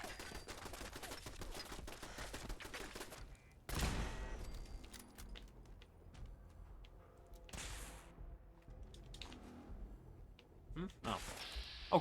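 Rapid automatic gunfire and a few heavier single shots from gunners in the Fallout video game, in bursts of varying loudness, with someone talking over part of it.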